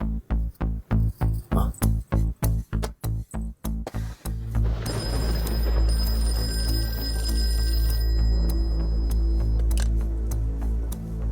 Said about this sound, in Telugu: నేను రాజుగాడికి ఫోన్ చేసి వస్తా, నువ్వు ఆడుండు.